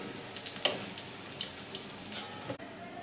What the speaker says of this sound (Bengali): আমার বেগুনগুলো খুব ভালো করে ভাজা হয়ে গেছে এবার আমি বেগুনগুলো তুলে নিচ্ছি